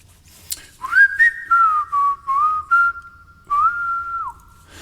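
Someone whistles a tune, clear and close, with sustained and gliding notes in short phrases separated by brief pauses.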